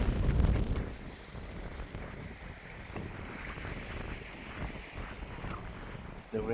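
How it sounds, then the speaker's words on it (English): Strong wind buffets a microphone at a cliffside roadside camp on the Isle of Skye, a steady roaring gust that fills the whole clip with no talking. "The wind is picking up."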